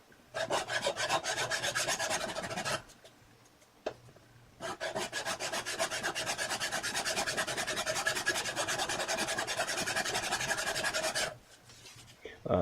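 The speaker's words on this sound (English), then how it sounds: "here I'm taking a file trying to just get the bottom smoothed out a little bit" A steady rasping file stroking back and forth on the metal bottom of a spokeshave, close and loud, with a brief pause partway through and a quieter stretch near the end.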